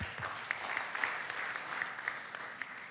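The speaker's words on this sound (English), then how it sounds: "Round of applause, please." Sparse audience applause at an academic disaster health management conference, moderately faint with a few distinct sharper claps standing out over a steady patter.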